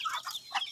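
Hungry backyard chickens cluck at feeding time, a quick run of close, fairly loud clucks and chatter over under a second, with no talking.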